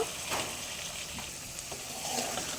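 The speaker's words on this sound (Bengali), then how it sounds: "এখন আমি মাছটি দিয়ে দিব।" Puti fish frying in spice paste in a pan makes a soft, steady sizzle and hiss, quiet and unbroken, with no voices over it.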